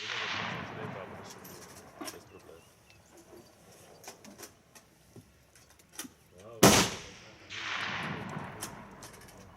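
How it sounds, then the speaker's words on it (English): A single proper rifle is fired once on a 300-metre range, giving one loud, sharp crack with a brief echoing tail. Quiet talk and small handling noises come before it, and voices resume afterwards. "My first ever shot with a proper rifle."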